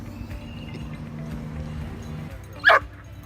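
A single dog yelps once, near, at an outdoor dog park in sunny California, over a steady low background hum.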